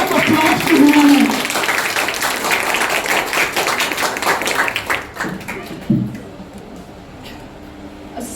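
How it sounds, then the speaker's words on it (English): Clapping from an audience at a final-day celebration event rattles densely for several seconds, then thins out and fades, with voices mixed in. "Please give a big round of applause to Hina."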